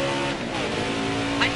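Race car engine held at full throttle in a NASCAR Xfinity Series video game race, a steady loud engine drone with a brief tire squeal near the end.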